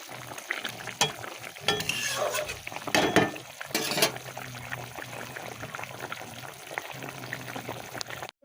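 Fish curry broth bubbling in a pot on a home kitchen stove, a steady low simmering hiss with brief louder stirring or lid clatters, close and unaccompanied by talk.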